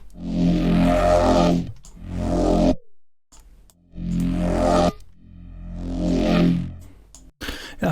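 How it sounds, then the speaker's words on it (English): Aggressive neuro bass synth built from Ableton's Wavetable instrument and stock effects, including a comb filter, playing loud growling, harmonically dense phrases in several bursts separated by brief gaps, with no talking. "today I want to make a Neurobass out of Wavetable and stock Ableton plugins"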